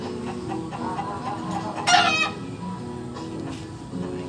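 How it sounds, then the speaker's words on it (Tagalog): A convalescing pet chicken clucks softly and repeatedly, then lets out one loud, sharp squawking cry midway before settling back into low clucking, heard close by. "Oh, bakit iiyak yung manok?"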